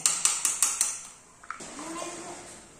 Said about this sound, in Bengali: বাসনপত্র আস্তে রাখতে হয়।